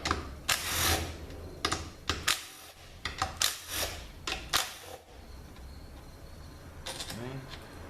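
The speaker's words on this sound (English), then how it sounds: "let's take these bolts out" A ratchet wrench backs bolts out of an RE5R05A automatic transmission during a teardown, giving close, repeated bursts of metallic clicking and ratcheting separated by brief pauses.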